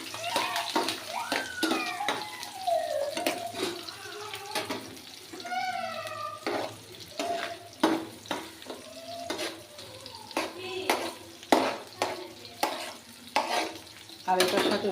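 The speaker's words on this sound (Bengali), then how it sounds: "এই যে আমি পেঁয়াজ রসুনগুলো এগুলো সুদ্ধা তেলে নেব" Onions and garlic fry in oil, a continuous sizzle broken by sharp utensil scrapes and knocks at irregular intervals, with someone speaking over the cooking.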